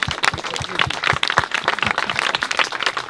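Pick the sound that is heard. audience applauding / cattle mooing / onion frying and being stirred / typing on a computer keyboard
audience applauding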